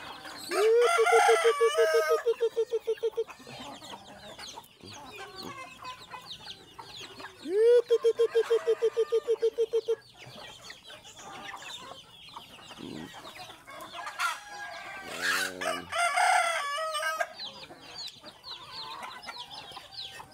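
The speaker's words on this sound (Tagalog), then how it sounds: "Ang dami manok." Many chickens in a backyard farm, with roosters crowing loudly in long calls at intervals and hens clucking continuously in the background, a busy, fairly close flock.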